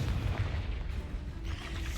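A Confringo fire spell erupts in Hogwarts Legacy gameplay, a low muffled boom rolling through a dull rumbling background before a softer thud trails off.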